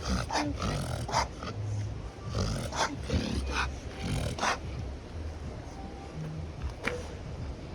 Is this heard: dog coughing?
yes